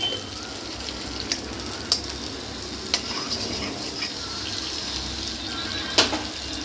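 Nigella seeds and bay leaf sizzle in hot oil while being stirred, giving a steady crackling hiss broken by a few sharp scraping clicks of the spoon against the pan.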